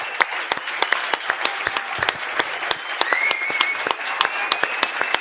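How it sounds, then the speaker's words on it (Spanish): An audience applauds warmly at a political gathering with a steady patter of scattered, crisp hand claps lasting about five seconds, with no voices over it. "ya le hemos dado un aplauso, pero le pido otro para ella muy cariñoso."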